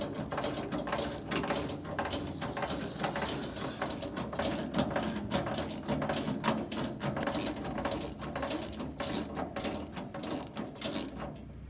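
Steady ratcheting clicks from a wrench tightening the tension bolts on a Loyal 23-bushel apron chain assembly, a continuous close metallic pawl rattle with no voices.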